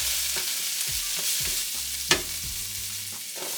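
Garlic and onions frying in a pan for vegetable fried rice, stirred with a utensil: steady close sizzle with repeated scraping strokes and one sharp knock of the utensil against the pan, no talking.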